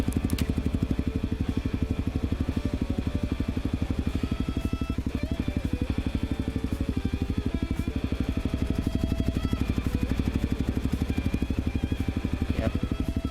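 Honda CRF250L motorcycle ridden along a dirt trail, its single-cylinder engine thrumming steadily in a rapid pulsing beat at moderate volume, with occasional clatter over rough ground.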